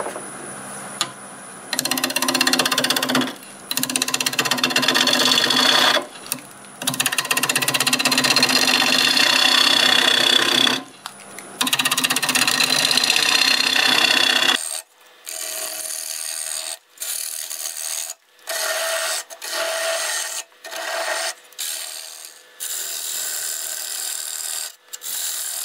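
A 5/8 bowl gouge hollows the inside of a wooden bowl spinning on a lathe at about 1,000 RPM, giving a loud continuous scraping rasp in long bursts that later turn into shorter, choppier cuts.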